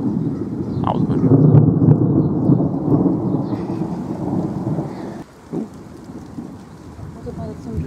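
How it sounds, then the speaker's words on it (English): A heavy thunder rumble swells and fades over steady rain, then quieter pattering rain continues with a brief soft knock. "What about the thunder and lightning? We don't like the rain."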